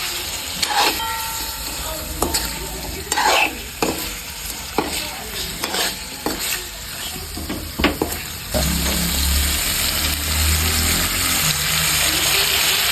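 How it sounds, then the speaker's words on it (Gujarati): Palva bean pieces frying in oil with chilies for a Gujarati vegetable dish, stirred with rapid scraping strokes over a steady sizzle, then settling into a continuous close frying hiss with a low rumble underneath. "આપણે થોડી વાર તેલ મરચામાં આપણે પકવવા દીધા છે બટકા આપણે પાલવાના"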